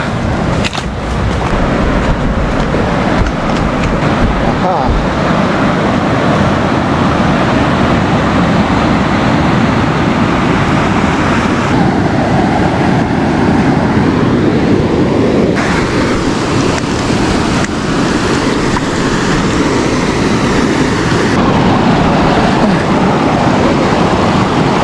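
A river rushes nearby on a cycle tour in snowy mountain country, a loud continuous broadband roar of flowing water with wind buffeting the microphone throughout.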